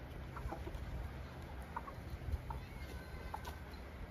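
A rooster and hens in a coop cluck softly at moderate distance, scattered calls over a steady outdoor background.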